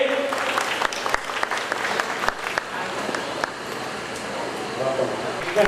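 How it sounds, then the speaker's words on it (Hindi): An audience at a Hindu Shiva Purana religious discourse gathering breaks into dense applause that carries on for several seconds, with an amplified voice partly over it. "जोरदार ताली श्रीमती नंदी परमानंद जोशी जी के लिए"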